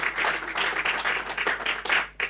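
An audience applauds members of the PELIP association, with dense, steady clapping that carries through the whole stretch.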